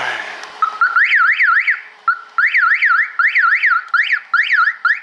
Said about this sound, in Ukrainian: тут ще ця сигналізація довбе мозги